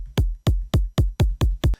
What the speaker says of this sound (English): This is what we would call essentially like a punchy kick.